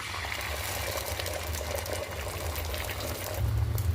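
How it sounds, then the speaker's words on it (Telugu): Beaten egg omelet mixture seasoned with salt and chilli powder is poured into a hot pan greased with a spoonful of oil, a steady close hissing sizzle with liquid spatter throughout, no talk. "స్పూను ఆయిల్ వేసుకోవాలి. ఆమ్లెట్ వేస్తున్నాను."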